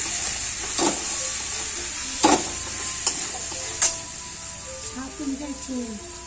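Kashmiri chili powder goes into hot oil with cumin and fenugreek powder for a soybean curry, giving a steady close sizzle with a few sharp stirring clinks, while someone talks over it.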